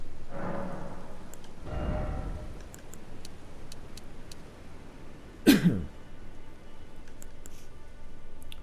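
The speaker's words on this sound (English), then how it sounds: "Again, apologies for the coughing." A few rough coughs and throat clearings, close and moderately loud, early on and again with a sharper burst past the middle, over a faint steady background with light ticking sounds.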